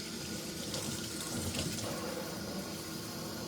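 Tap water runs steadily from a kitchen sink faucet at low pressure, a constant broadband rush and splash holding close and even throughout with no voices.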